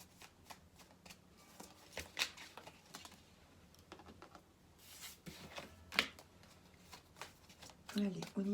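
Tarot cards shuffled close by in soft, riffling flurries with brief breaks, quiet and papery, while someone speaks French over them throughout.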